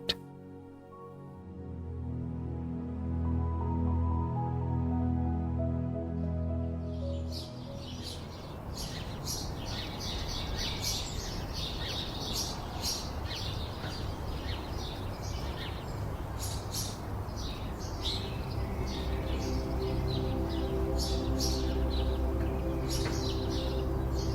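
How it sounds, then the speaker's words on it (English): Sparrows chirping on a spring morning in Istanbul, a dense scatter of short tweets that begins after a few seconds and runs on steadily over sustained low tonal music, with no talking. "sparrows are singing"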